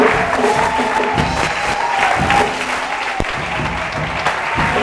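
A church congregation at a vigil applauds steadily and loudly, a dense wash of clapping with some acclaiming voices mixed in, filling the whole moment without pause.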